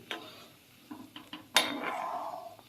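Metal spoon clinks and scrapes against a pot while pork is stirred with spices, a few close, sharp knocks and a bright clatter ringing out briefly, no talking.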